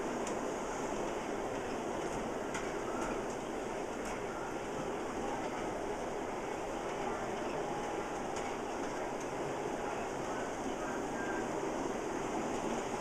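Model trains on a looped layout with five lines and a hand-built trestle, giving a steady, soft rolling clatter of small wheels on track, running continuously without talk.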